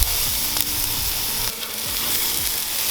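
Steaks sizzle steadily on a grill over open fire, a loud continuous frying crackle close up with no talking.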